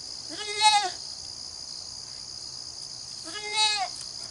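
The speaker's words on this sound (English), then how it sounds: "My daughter got some goats." Two young female goats bleat in two separate bursts, each a wavering, nasal cry about half a second long, heard close by against a quiet outdoor background with a faint hiss of insects.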